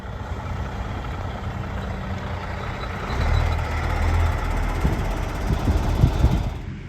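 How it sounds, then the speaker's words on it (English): A truck pulls in for its next load at a farm holding bin, its engine rumbling steadily and growing louder as it nears, with reversing beeps sounding faintly over the low idle. "Truck driver's just arrived for his next load."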